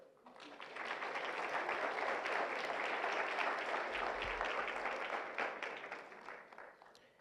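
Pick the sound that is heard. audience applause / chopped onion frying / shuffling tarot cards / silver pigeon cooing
audience applause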